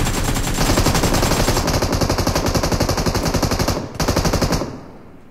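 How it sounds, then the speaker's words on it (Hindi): An M249 machine gun fires in PUBG Mobile with rapid, loud, evenly spaced shots in a long continuous stream, breaks off for a split second, then fires again before stopping. "ये जो M249 अभी चलाई है ना"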